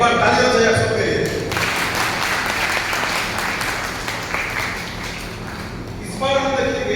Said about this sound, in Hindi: एक बार ताली हो जाए आप सबके लिए